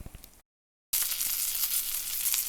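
Chicken frying in a pan, steady bright sizzle after a brief gap of silence, close and fairly loud, with faint crackles throughout.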